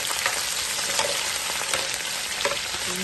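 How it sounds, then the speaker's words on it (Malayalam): Green chilli, ginger garlic paste and onion sautéing in hot oil in a pan for a coconut-milk chicken curry, a dense continuous sizzle with occasional stirring scrapes, close and steady with no voices. "ഇഞ്ചി വെളുത്തുള്ളി പേസ്റ്റ്, ഉള്ളി എല്ലാം കൂടെ ഇട്ട് ഒന്ന് വഴറ്റി വെക്കാം"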